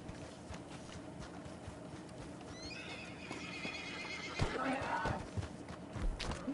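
A horse whinnies loudly in Red Dead Redemption Online, the neigh rising over steady clip-clop hoofbeats and a busy background of game sounds, with someone talking over it.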